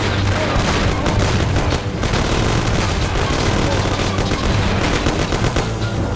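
A gunfight in the video game Mafia sounds as dense, continuous gunfire, with overlapping rapid shots and bursts, loud and sustained with no pause throughout.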